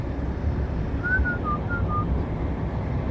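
A short whistled tune of a few notes sounds faintly over steady wind and rumbling background noise.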